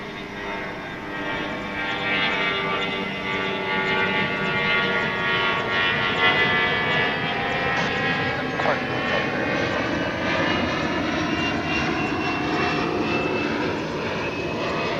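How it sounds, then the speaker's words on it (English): An Airbus A320 taking off at DFW International Airport, a steady, loud engine roar held throughout at a distance, with a slowly shifting whine layered over it. "It's an A320, and here's why we wish they were taking off from this side"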